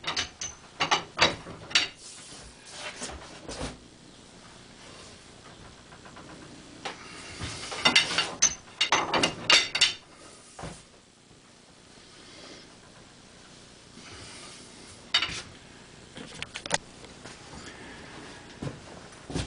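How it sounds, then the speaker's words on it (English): A socket T-bar on a long extension works loose a huge, fine-threaded nut full of Loctite on a Morgan 3 wheeler chain drive held in a vise, giving bursts of ratcheting clicks and metallic creaks between quieter pauses. "A long extension on the socket T-bar and a lot of welly"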